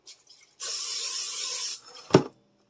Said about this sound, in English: take your favorite butter spray that you have on hand and just spray the inside of the Dutch oven